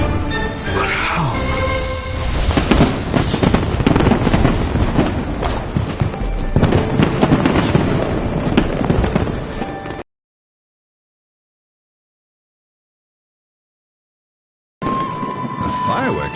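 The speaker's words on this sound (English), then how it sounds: "A fireworks show?" Fireworks show in the Genshin Impact video game, a dense, loud, continuous barrage of booms and crackles for about ten seconds, then a sudden silence of nearly five seconds before the bursts resume.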